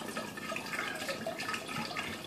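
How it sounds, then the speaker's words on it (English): Moscato wine pours steadily from a bottle into a pitcher, a continuous bright liquid splash and gurgle held at an even, fairly close level for the whole stretch, with no talk over it. "we're going to pour all of the Moscato into the pitcher"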